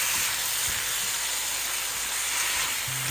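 Prawns cooking in a pan with onion and tomato paste for a Goan prawn curry give off a steady, continuous sizzling hiss that stays even throughout, with no voices.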